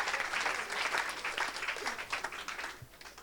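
A church congregation at a revival gathering claps and cheers for Jesus in a dense, steady wave of applause that continues for a few seconds before slightly thinning, heard from within the crowd.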